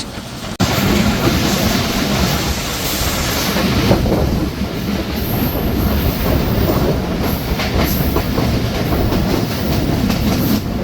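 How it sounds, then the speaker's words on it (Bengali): Barendra Express intercity train crossing the Atrai railway bridge over the Atrai River, heard from on board as a loud, steady rumble with rhythmic clickety-clack of wheels on rails and occasional metallic squeal. "ইতিমধ্যেই ট্রেনটি অতিক্রম করে যাচ্ছে আত্রাই নদীর উপর নির্মিত আত্রাই রেলওয়ে সেতু"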